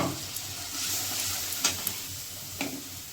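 Spices sizzle in hot oil as tempering goes into a pan of Bengali vegetarian potato curry (aloo dum), a steady close frying hiss with a few sharp clinks from stirring.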